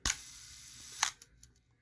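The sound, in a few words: Asahi Pentax Spotmatic SLR camera shutter being cocked and clicked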